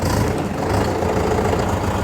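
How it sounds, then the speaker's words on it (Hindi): A Mahindra Yuvo Tech+ tractor engine runs steadily in medium gear, a loud, continuous low rumble with an even drone held throughout, no voices. "अब आप देख सकते हैं मीडियम में कितनी स्पीड में ट्रैक्टर चल रहा है।"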